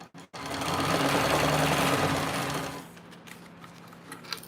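A sewing machine back stitches a pocket seam in a rapid, steady mechanical chatter lasting a couple of seconds, then stops and leaves faint handling noises.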